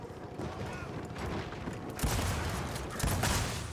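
Dense automatic gunfire in Gears of War 4 multiplayer, loud continuous rattling bursts with heavy thumps near the two- and three-second marks, no pauses throughout.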